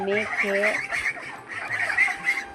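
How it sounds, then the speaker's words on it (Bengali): Ducks squawk and flap in agitation, a cluster of harsh nasal calls repeating close by in short bursts, with a person speaking over the birds at times. "মাখতে মাখতে হাঁসগুলো ছটফট করতেছে"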